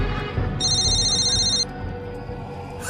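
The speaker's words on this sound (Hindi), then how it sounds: "शायद होटल वाले का फोन है" A telephone rings with a repeating electronic trill, loud and steady for about a second, over a noisy background and against a night-time highway setting; it then cuts off abruptly.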